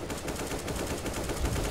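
Gunfire in the video game CS:GO, a steady run of rapid shots filling the whole short stretch at a constant loud level, with one heavier low thump near the end.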